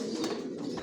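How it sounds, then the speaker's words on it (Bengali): Pigeons cooing on a rooftop loft, a short low murmuring coo, close and steady, with no talk. "চিলা কবুতরও পালি আবার ছাদে, ওই যে এখানেও এক জোড়া বাচ্চা আছে"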